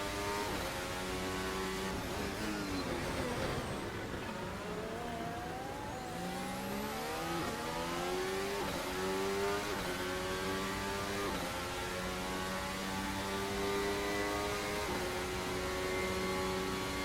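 Formula One car engine in Assetto Corsa, a 2026 F1 car that is rear-heavy and prone to stepping out under braking, revving up and down through gear changes in a continuous loud whine with repeated upshifts and downshifts, no talking.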